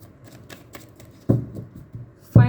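Tarot cards shuffled by hand, a run of soft light riffles followed by two louder, sharper bursts close to the microphone.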